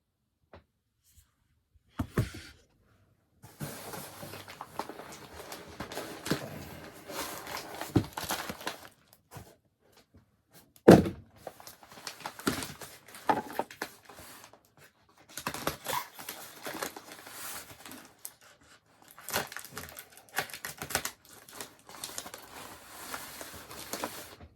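A comic book mail package is unwrapped and cut open, with bursts of rustling, crinkling packing material and scraping handled close by, separated by brief pauses.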